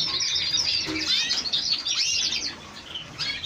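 A small yellow caged bird with a grey-green crest sings close by in an aviary, giving a steady stream of bright, high chirps and warbling trills with some wing flutter.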